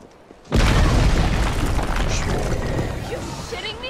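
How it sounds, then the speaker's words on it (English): A grenade detonates in Resident Evil 3 after a brief quiet moment, a single loud, close boom that swells and then rumbles on, slowly fading over several seconds. "Okay, I'm gonna get my grenade out."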